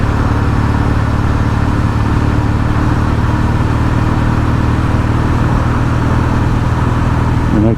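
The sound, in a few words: motorcycle or scooter engine running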